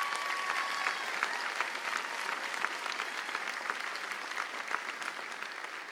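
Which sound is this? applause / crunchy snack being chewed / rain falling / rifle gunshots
applause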